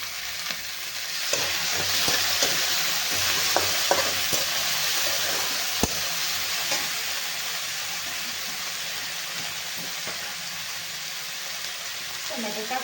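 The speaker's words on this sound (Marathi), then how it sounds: "आता आपण या कांद्याला थोडंसं तळून घेऊया" Onions frying in a pan for a winter flower-vegetable dish give a steady, close sizzle across the whole stretch, with occasional scrapes and stirring knocks and no talk.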